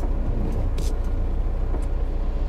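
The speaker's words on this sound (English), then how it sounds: "Now we will lift the front bucket." A rubber-tire backhoe runs during a daily safety inspection, its engine a steady, loud low rumble with a few short hissy bursts as the hydraulics raise the front bucket, no talk.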